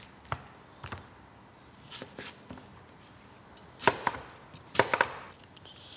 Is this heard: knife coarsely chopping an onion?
yes